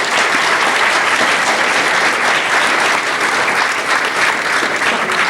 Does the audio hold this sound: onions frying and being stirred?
no